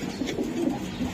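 Racing pigeons coo softly nearby, a short low throaty burble with gentle rolling pulses.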